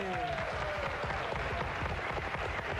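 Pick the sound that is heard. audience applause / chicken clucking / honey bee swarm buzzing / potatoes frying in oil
audience applause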